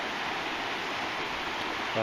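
Rain-swollen Coker Creek rushes steadily nearby, a dense continuous roar of flowing water with no breaks, ending with a brief low thump.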